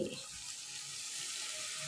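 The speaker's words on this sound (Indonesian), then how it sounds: "tambahkan air 200 ml" About 200 ml of water poured into a pan of cooked spiced sauce and fried chicken for rica rica, a steady, soft splashing rush that continues for the whole brief moment.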